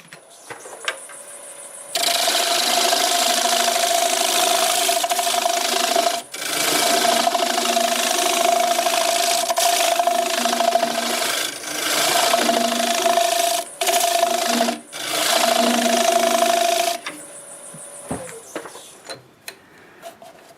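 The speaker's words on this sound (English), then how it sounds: "I think I'll use the negative rake scraper here to smooth that out." A negative rake scraper smooths black walnut spinning on a wood lathe, giving a loud, close, continuous scraping whir with a steady tonal drone for about fifteen seconds, broken by a few brief pauses, then dropping to quieter motor hum.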